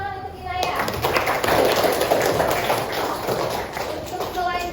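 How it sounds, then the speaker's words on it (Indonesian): Classroom applause for a student, a steady patter of many small hands clapping for a few seconds, with children's voices chattering underneath. "Tepuk tangan untuk Inaya."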